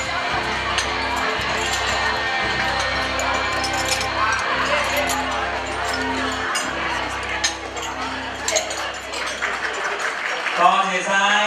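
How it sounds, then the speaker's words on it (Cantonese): Audience applause and cheering fill a hall during a Shanghai night show, a dense sustained clapping wash with music lingering underneath and a voice emerging near the end. "各位掌聲俾我哋"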